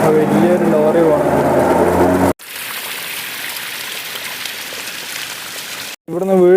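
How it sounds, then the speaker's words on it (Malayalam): Mountain water from a single day's rain tumbles and flows along a roadside toward Malampuzha dam, a steady broadband rush that fills the middle of the clip, with voices talking just before and after it. "അവിടുന്ന് വീഴുന്ന വെള്ളമുണ്ട്."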